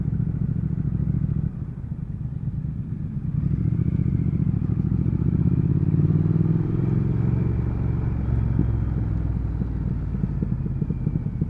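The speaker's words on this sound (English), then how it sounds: "Listen to that burble and pop." A 2019 Triumph Speed Twin motorcycle engine on the move, a steady deep twin-cylinder burble with throttle swells and faint crackling pops on the overrun, close and loud with no talk.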